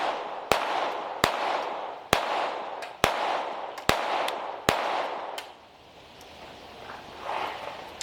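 Sig Sauer P322 rimfire pistol firing Remington Thunderbolt rounds, a run of seven sharp evenly spaced shots about every 0.8 seconds, loud and close, each cracking out with a short echo before the shooting stops.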